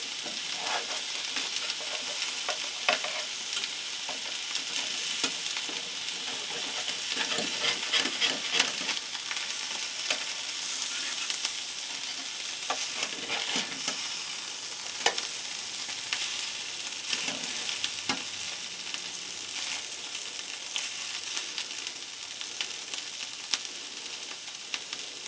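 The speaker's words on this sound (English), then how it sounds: "Okay, so now we'll just reheat everything." Food sizzles and fries steadily in a pan as it is reheated, a continuous crackling hiss with occasional stirring scrapes, close and fairly loud, with no talking throughout.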